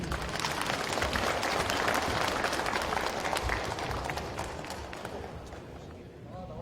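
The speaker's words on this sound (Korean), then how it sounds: "큰 박수 부탁드리겠습니다." Sustained audience applause at a Gimpo party chapter debate forum of the People Power Party, a dense, steady wash of clapping from a seated crowd that gradually tapers toward the end.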